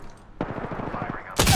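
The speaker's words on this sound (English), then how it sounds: "Dude, I got you with that cover fire" Apex Legends gunfire laying down cover fire: a rapid burst of shots rattling off in quick succession, followed by a louder, sharper blast at the end.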